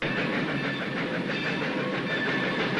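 A train running on a railway, its steady dense rumble and rolling clatter filling the whole stretch at close, loud, even level.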